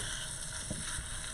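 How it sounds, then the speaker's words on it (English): Ground beef frying in a skillet, a steady low hiss of sizzling with a few soft stirring bumps, faint and close, no voices. "I'm starting to hear the sizzles"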